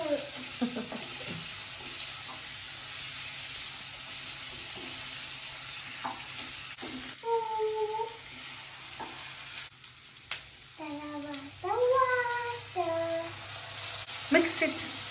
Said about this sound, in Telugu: బాగా మిక్స్ చేస్తున్నాం.